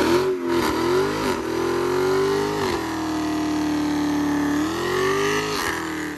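Supercharged engine of a 2022 Dodge Hellcat Redeye in eco mode on bald tires, loud and close, revving in long rising and falling pulls with a whining tone over a deep roar.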